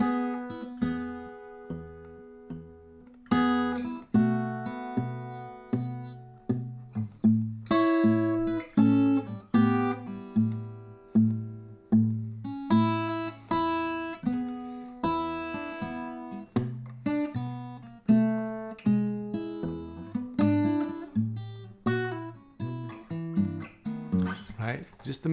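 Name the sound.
fingerstyle blues guitar arrangement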